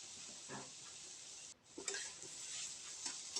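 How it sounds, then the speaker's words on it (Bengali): Motor kolai greens frying with cumin in oil, a steady hiss of sizzling throughout, broken by a brief pause and then the scrape and rustle of the leaves being stirred and turned in the pan. "এবার শাকটা দিয়ে সুন্দর করে আমরা এপাট ওপাট করে সুন্দর করে ভাজি করে নেব।"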